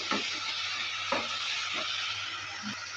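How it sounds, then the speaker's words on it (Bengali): Curry masala for elephant foot yam and soybean curry sizzles steadily in a pan after water is added, while a spoon stirs it in four distinct scraping strokes over the constant frying hiss, close up, with no talking. "জলটা দেওয়ার পর ভালো করে আবারও নেড়ে চেড়ে নিচ্ছি।"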